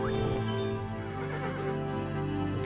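In the video game Kingdom Classic, a black horse gives a loud, wavering neigh over a dense tonal game soundscape, with faint hoof clip-clops mixed in.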